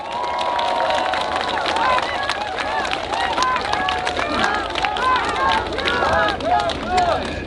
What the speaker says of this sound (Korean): 격려의 박수 한번 부탁드립니다.